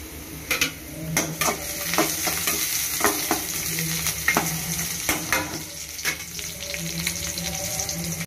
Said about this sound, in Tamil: ஸோ நல்லா வதங்கிட்டுருக்கு.